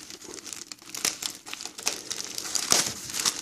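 Canvas tool storage bag being unwrapped from its plastic packaging, a close, steady crinkling and rustling with sharper crackles throughout, no voices.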